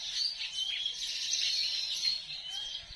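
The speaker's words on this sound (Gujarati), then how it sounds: "બહુ કલબલાટ કરે સવારના આખો દી ટૂંકમાં આવું જ હોય" Sparrows chirping and chattering busily in a village setting, a steady stream of high, overlapping calls with no talk.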